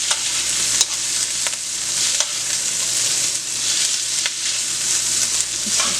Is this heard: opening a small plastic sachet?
no